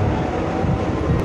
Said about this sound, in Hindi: और ट्रेन चल रही है।